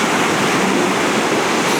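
Waves break at Ayrmer Cove in Devon in winter, giving a loud, continuous roar of surf that fills the whole stretch without any pause.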